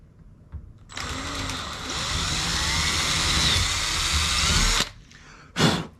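A power drill spins at high RPM, boring a hole through a kayak hull to fit a rod holder, a loud steady whine running about four seconds before cutting off, followed by a brief second burst.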